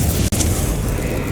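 The Confringo explosive spell in Hogwarts Legacy lands as a loud, dense burst that fills the moment, with a brief dip before the rumble carries on.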